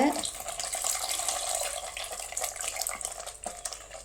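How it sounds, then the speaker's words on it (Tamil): Tamarind water pours steadily into a pot for fish curry with a soft splashing hiss, fairly quiet and continuous for a few seconds. "இப்போ புளி தண்ணி ஊற்ற போகிறாங்க."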